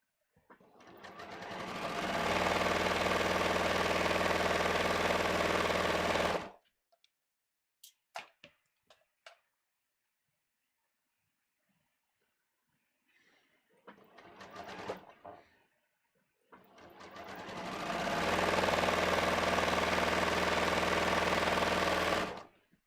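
A sewing machine runs a side seam on a pair of contoured pants in two long, loud, steady stretches of stitching, separated by a quiet gap with small clicks and fabric handling.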